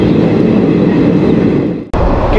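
Shaktipunj Express running at speed between Kumardubi and Dhanbad in Jharkhand, a loud steady roar of wheels and carriage rumble with a brief dropout near the end, no voices.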